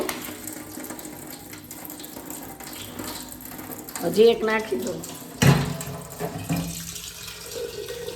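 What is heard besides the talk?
tap water filling and overflowing a clay water pot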